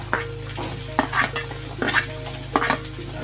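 Sliced onions with lentils, chillies and tamarind sauté in a kadai, a soft steady sizzle broken by repeated scraping stirs of a spoon against the pan, close and alone.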